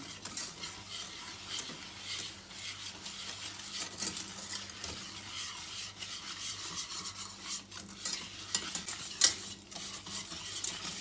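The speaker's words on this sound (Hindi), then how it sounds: "चीनी को मेल्ट करेंगे थोड़ी देर के लिए और मुसलसल आपने इसमें चम्मच चलाते रहना है" A spoon stirs sugar melting in butter in a pan over a fairly high flame while makhandi halwa is being made. The scraping strokes come steadily and close, over a constant low sizzle, with no talking.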